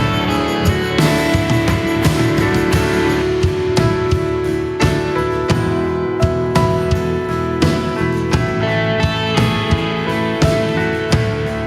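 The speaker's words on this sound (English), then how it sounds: "here's just the band with the keys, electric, everything" A full live church worship band plays steadily together, keys, electric and acoustic guitars layered over driving drums and bass, loud and dense with no voices.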